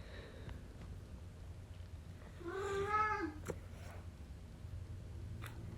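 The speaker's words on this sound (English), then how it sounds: "My cat is great at ruining all my videos." A domestic cat meows once in a drawn-out, fairly close call over a quiet indoor background, with no talking.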